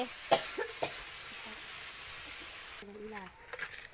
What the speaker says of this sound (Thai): ผัดหอยกับกี้